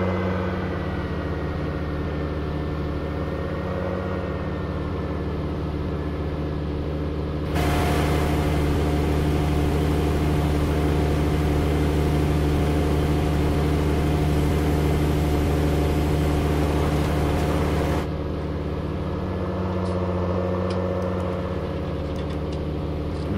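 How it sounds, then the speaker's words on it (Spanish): A John Deere tractor engine idles steadily in Farming Simulator 19, a smooth low drone with a louder, harsher stretch in the middle as it revs or works, then settling back; no talking. "Escuchen nada más lo fino de esta máquina."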